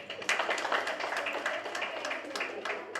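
An audience at a birthday celebration event claps in a steady burst of applause, with quick overlapping hand claps that stay fairly loud throughout.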